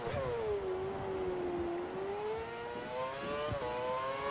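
A Formula One car engine screams in the F1 2013 racing game, one high whining tone that dips, climbs and then shifts sharply as the throttle and braking change, loud and close with no speech.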